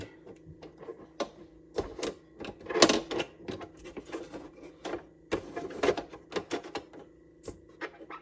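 A TEAC turntable mechanism clatters and ticks irregularly, with bursts of rattling and whirring, close up and fairly quiet.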